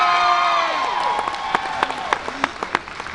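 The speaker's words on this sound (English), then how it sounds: "Big round of applause for this girl for knowing that Kansas City's in Missouri," A convention panel audience at Planet Comicon claps and cheers under voices and a lingering tonal sound, the clapping thinning into scattered individual claps toward the end.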